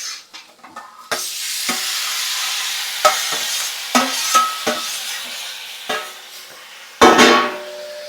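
Tomato pieces sizzle and fry in a pan for a tomato-capsicum curry, with a ladle scraping and stirring in a run of short strokes and occasional louder clanks, steady hiss underneath and no talking.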